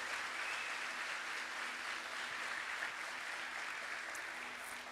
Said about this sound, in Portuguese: aplauda Jesus aí, irmãos, por favor.